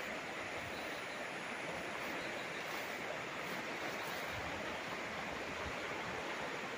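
Steady broadband rush of a river flowing beside a farm lot with string beans and sweet potatoes in Cavinti, Laguna, continuous and even throughout with no voices.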